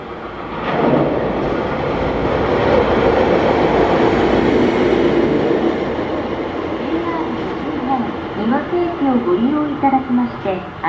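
A DE10 diesel locomotive running alone passes through Niwase Station, a loud, close engine roar that builds and holds, then gives way to rhythmic wheel clatter over rail joints, with station announcements faintly underneath.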